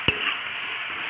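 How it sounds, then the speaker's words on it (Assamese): A spatula stirs fish curry seasoned with turmeric in a pan over a steady, close sizzle, with one sharp scrape near the start and no talking. "ভালদৰে লৰাই ল'ম।"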